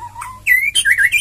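A white-rumped shama sings at close range and loud, opening with a low whistled note and then breaking into quick rising and falling phrases of bright chirps.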